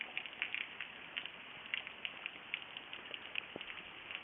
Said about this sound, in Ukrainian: Прогуляємося дощиком.